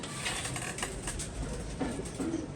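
Pigeons cooing softly at a pigeon-keeping roost, faint low calls repeating under a steady noisy background with light rustling, no voices.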